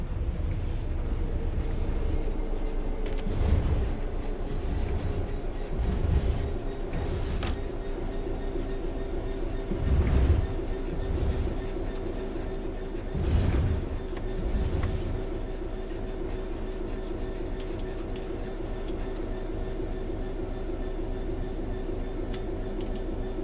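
A train coasts on level track in Train Sim World 3, a steady low rumble of wheels on rails with periodic clickety-clack thumps from rail joints, continuous and fairly loud with no talk.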